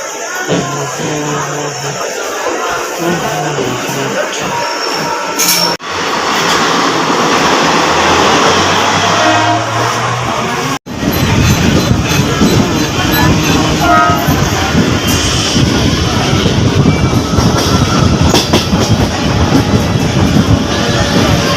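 A Mumbai local train rumbles and rattles along steadily, loud and close, with a crowd murmuring at a station and brief sharp clanks partway through.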